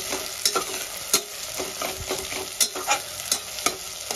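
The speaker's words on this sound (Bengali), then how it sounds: "পেঁয়াজটা আমি লাল লাল করে ভেজে নেব। আমি রান্নাটা সাদা তেলে করছি" Onions fry in white oil with a continuous soft sizzle while a spoon stirs them, leaving repeated light scrapes and taps against the pan at an uneven rhythm.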